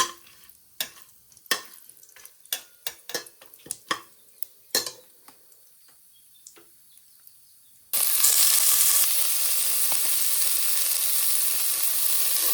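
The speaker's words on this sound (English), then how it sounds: "I'll fry it a little" Bay leaf, green chili and onion are dropped into a pot for one-pot pulao, first as a run of sharp clinks and taps of utensils, then a sudden steady loud sizzle of frying that continues to the end.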